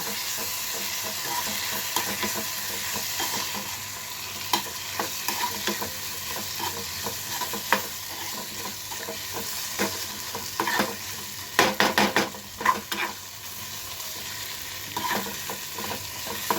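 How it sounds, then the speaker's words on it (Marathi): Finely cut salted potatoes are stirred and fried in a pan, a constant close sizzle broken by repeated scraping and clinking stirring strokes that grow louder and busier toward the end. "आणि आता बटाटी अशी परतवून घ्यायची आपण."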